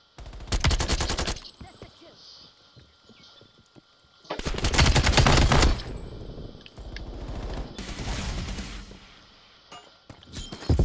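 An automated sentry gun in Call of Duty: Black Ops Cold War fires loud rapid bursts. Two long volleys stand out, each a second or more, with quieter gunfire and game noise between them.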